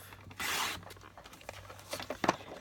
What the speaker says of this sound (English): I'm going to cut it at 4 1/4 by 5 1/2.